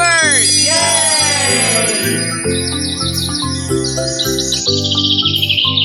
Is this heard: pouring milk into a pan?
no